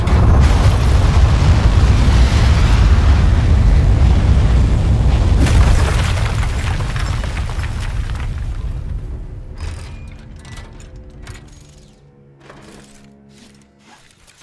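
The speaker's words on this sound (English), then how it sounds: "We have liftoff." A rocket lifts off in the video game Aperture Desk Job with a loud, sustained booming roar. The rumble slowly fades away, leaving faint clicks and mechanical sounds at the end.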